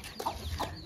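A chicken gives two quick, close clucks about a third of a second apart, loud and alone without talk.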